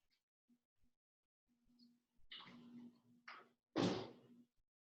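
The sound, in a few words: closing washing machine doors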